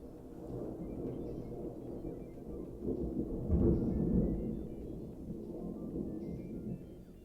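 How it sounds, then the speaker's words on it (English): Thunder from a storm, one low rolling rumble that swells to a peak midway and then fades into a faint continuing grumble. "Ooh, thunder."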